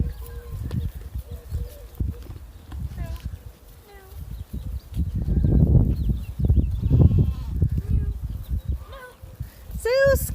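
LaMancha goats bleating on a farm, several short wavering bleats scattered among louder rustling and handling noise, with people talking nearby.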